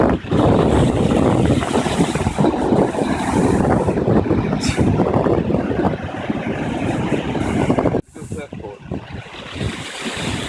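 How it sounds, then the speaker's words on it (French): Big surf at Sandy Beach on Oahu, Hawaii: loud, continuous roaring wash of breaking waves with heavy wind buffeting the microphone, close and powerful, easing briefly near the end before surging again. "Regardez là la vague qui prenne les gens"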